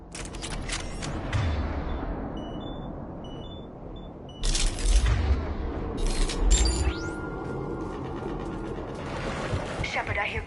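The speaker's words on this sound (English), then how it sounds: "Shepard, I hear gunfire." Gunfire in Mass Effect 3, bursts of shots and mechanical clatter mixed into game sound, with louder volleys in the middle and talk over it.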